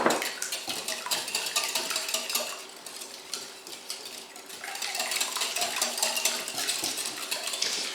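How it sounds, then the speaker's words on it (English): Eggs are whisked in a bowl for a quiche: fast, continuous clinking and scraping of a whisk against the bowl, close and fairly loud, with no talking. "I'm going to whisk this together. First break up the yolks. And then whisk."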